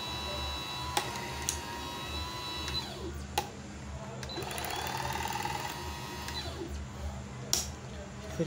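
A Singer Apricot sewing machine runs in steady bursts of rapid needle chatter, with brief pauses and clicks between stitching runs, fairly quiet and close, without talk.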